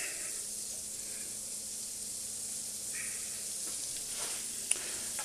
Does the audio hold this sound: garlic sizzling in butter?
yes